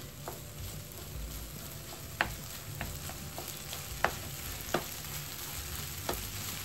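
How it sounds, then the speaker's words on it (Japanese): Microwaved packaged rice is broken up and stirred in a pan over medium heat, a low sizzle under a string of sharp spatula clicks and scrapes against the pan. "こうやって崩しながらまた混ぜていきます。"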